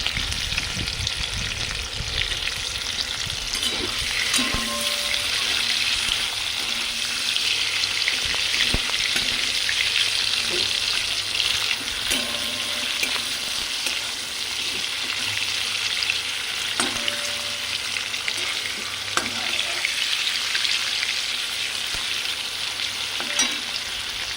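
Onion, garlic and ginger sizzle steadily in a hot pan, with occasional clinks and scrapes of stirring close by and no talking.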